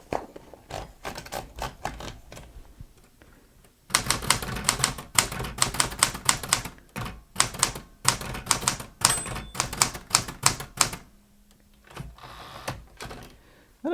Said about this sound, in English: I don't know how many of you remember the old manual typewriter.